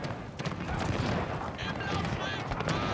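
Battle in Pike & Shot Total War with 6-pounder artillery cannons, a dense, continuous clatter of gunfire and booms filling the whole stretch.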